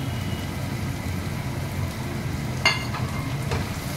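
Chopped garlic, chili and red capsicum sizzle steadily in a hot pan for a brinjal dish, a constant soft frying hiss with a few brief clinks of a utensil against the pan.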